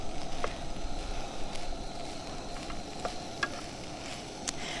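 Nasi goreng (fried rice) stirred with a wooden spurtle in a hot pan, a steady soft sizzle and scraping under faint occasional clicks, close and continuous.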